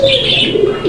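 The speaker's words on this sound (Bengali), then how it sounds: "দেখেন কবুতর" Pigeons at a breeding loft give a short, close, throaty coo that is loud and clear with no talk over it.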